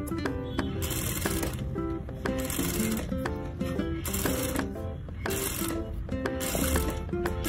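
A sewing machine stitches the border of a princess deep-neck blouse, its needle chattering in rhythmic runs with short breaks, set against steady background music.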